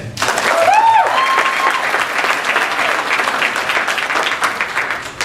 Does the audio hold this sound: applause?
yes